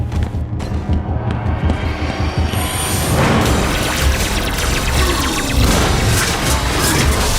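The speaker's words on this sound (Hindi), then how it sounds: "अभी कुछ ही देर में एक बहुत बड़ा धमाका होने वाला है, बहुत बड़ा।" A loud, rumbling game explosion swells into a sustained roaring blast with crashing debris, dense and heavy throughout, no voices.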